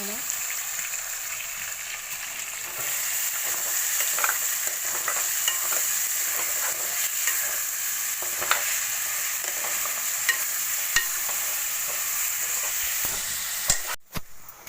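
Fish pieces fry in a pan with a steady, bright sizzle, while a spoon stirs them in repeated scraping strokes. The sound carries on evenly and ends with a brief clatter.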